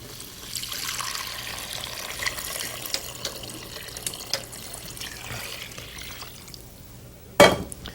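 Water pours and trickles into a soup pot after the salt and pepper go in, a soft continuous splashing close by, ending with a brief louder clatter.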